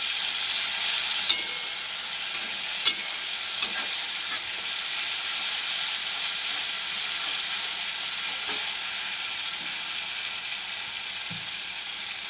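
Onions sizzle steadily in a hot pan for a Bengali prawn malai curry with ginger-garlic paste, a dense, even frying hiss throughout with a few faint clicks of a stirring spoon and no talk.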